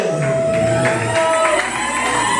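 A crowd cheers and acclaims at an anniversary event, a dense wash of shouts and whoops rising and falling under an announcer's voice.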